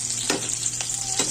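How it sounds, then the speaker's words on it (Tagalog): Onions sautéing in a pan for chicken liver adobo make a steady, close sizzle, with three short scraping stirs spread evenly across it and no talking. "Pulahon ko ng bombay."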